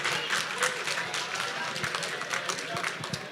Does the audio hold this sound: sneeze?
no